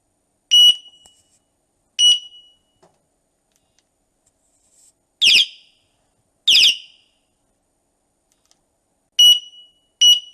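Hornit electric bike horn blasts in six short, loud, piercing beeps, two at a time with pauses between, some higher and some a harsher alarm-like tone, with nothing else heard.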